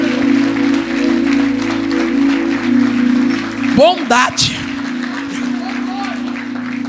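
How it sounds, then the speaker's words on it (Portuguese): A church congregation applauds in a brisk, rolling wave under a sustained organ or keyboard chord, while a preacher speaks over the clapping and a sharp electronic swoop cuts through midway. "Aplaude a Jesus aí."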